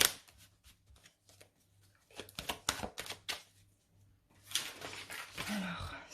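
Tarot cards are shuffled and laid out on a table in quick papery riffles and soft slaps, with a low hum beneath and a voice speaking briefly at moments.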